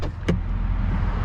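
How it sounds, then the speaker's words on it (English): A power window on a Mercedes-AMG GLE 53 Coupe slides open with a short, close motor whir that follows a brief click, inside a quiet cabin. "let's open up the window here"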